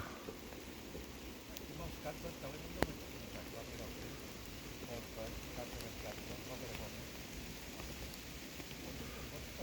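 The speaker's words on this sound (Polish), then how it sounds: "Pada non stop." Steady rain falls non-stop on a riverside spot by the Bug, a continuous soft patter with one sharp tick partway through and faint voices now and then.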